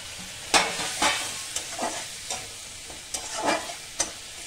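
Fried bitter gourd is stirred into a spice masala with garam masala and a splash of water, sizzling in the pan while a spatula scrapes in repeated close, uneven strokes.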